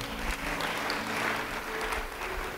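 A church congregation claps together during a sermon, giving a broad, steady wash of applause that carries on evenly for a couple of seconds at moderate loudness.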